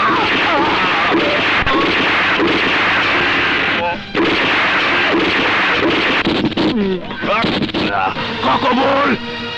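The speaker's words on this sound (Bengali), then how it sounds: "ভাই, বাইরে গোলাগুলি শব্দ হইতেছে।" Dense, continuous burst of gunfire sound effects in a Bangla movie scene, loud rattling volleys with brief gaps, mixed under overlapping voices and background score.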